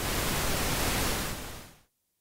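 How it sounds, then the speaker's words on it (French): Unfiltered pink noise comes from a modular synthesizer noise generator as a steady, full-range wash that holds for nearly two seconds, drops slightly in level, then cuts off into silence. "Ça, c'est un bruit rose."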